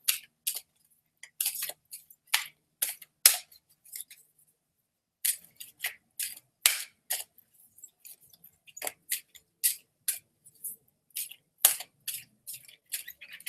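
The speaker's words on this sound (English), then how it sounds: "So I'm just shuffling this until I see a card that sticks out." Angel oracle cards being shuffled by hand, a run of crisp rapid riffling bursts in irregular clusters with short pauses between them, close and fairly quiet with no talking.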